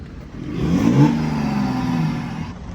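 A BMW engine being readied for track use revs up, building to a steady mid-pitched roar with a slight whir and clatter, held for a couple of seconds before easing off slightly.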